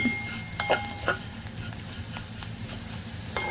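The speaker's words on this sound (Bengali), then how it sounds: "ভাজা দিচ্ছি হালকা করে" Pointed gourd peel frying lightly in a pan, giving a steady soft sizzle with occasional stirring scrapes and clinks throughout, close by and with no talking.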